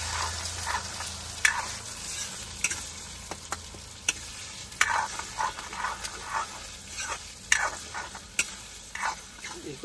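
Egg bhujia fries and is stirred in a pan, giving a steady sizzle broken by repeated scraping strokes of a spatula, close and fairly loud, with no talking.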